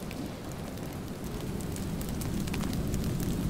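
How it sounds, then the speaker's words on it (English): Constant rain in the video game Planet Explorers, a dense steady patter with a low rumbling bed and scattered bright droplet ticks, even and unbroken throughout. "It is always raining in this damn game too."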